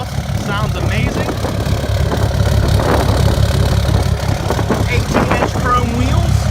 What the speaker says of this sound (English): The truck's got a nice 5-inch exhaust. Sounds amazing.